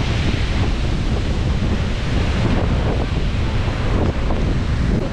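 Strong storm wind on a beach in Palawan, roaring steadily and buffeting the microphone, mixed with crashing surf in a loud, unbroken rush and no voices.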